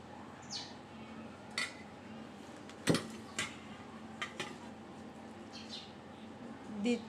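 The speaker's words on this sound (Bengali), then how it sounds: "আমি ডিমের প্রলেপ দিচ্ছি একটা চামচের সাহায্যে" A spoon spreads beaten egg coating over chicken jali toast topped with meat filling, giving scattered soft scrapes and light clicks, with one sharper tap midway, close by over a quiet steady room hiss.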